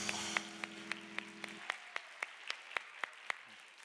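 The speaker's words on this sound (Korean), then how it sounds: "우리 큰 박수 부탁합니다" Scattered, slow claps ring out at a church youth service, about a dozen distinct hand claps in loose rhythm after a low sustained tone fades out, fairly quiet and roomy.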